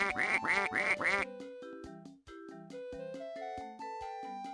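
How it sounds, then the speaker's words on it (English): Cartoon ducks quack in a Dora the Explorer video game (Dora's Fix-it Adventure, 2005): a dense run of quacks opens the clip, followed by a bright, plinking melodic game jingle. "Count the number of ducks that are quacking."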